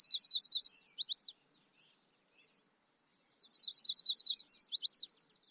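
A warbler sings two rapid, high trilling phrases at Great Meadows refuge, each burst of bright chirps lasting over a second with a pause between, clear and fairly close.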